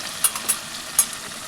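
Stuffed eggplant frying in a pan over a low flame, a soft continuous sizzle broken by a few sharp crackling pops.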